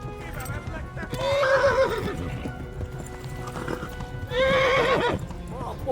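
A horse in the video game Kingdom Come: Deliverance clip-clops at a gallop, loud and close, with two drawn-out neighs breaking through the hoofbeats.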